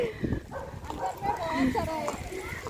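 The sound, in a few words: dogs barking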